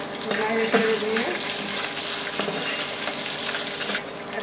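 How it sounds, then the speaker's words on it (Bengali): Black cumin and garlic fry in a pan for mushroom bharta, giving a close, steady crackling hiss that runs unbroken from start to finish. "কালো জিরাটা একটু ভাজা হবে, একটু ভাজা হয়ে গেছে।"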